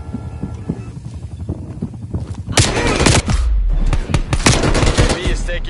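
Gunfire in Call of Duty Cold War during a search-and-destroy match, rapid automatic bursts growing louder and denser after a quieter start, close and intense, with game voice lines in the background.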